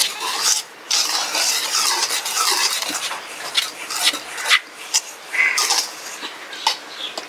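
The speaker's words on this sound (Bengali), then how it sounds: "প্রথমে শুকনো উপকরণগুলো ভালো করে মিশিয়ে নিব।" Dry ingredients for ripe palm fruit fritter batter, including sugar and salt, being stirred in a bowl: close, repeated scraping and rasping strokes in an uneven rhythm, with brief pauses between bursts of mixing.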